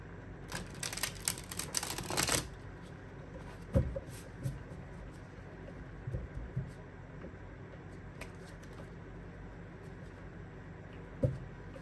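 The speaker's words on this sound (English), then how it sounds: "one more shuffle, and then I'm going to cut the deck" A brief, loud riffle of a deck of cards being shuffled near the start, followed by quieter room sounds and a few soft taps and knocks.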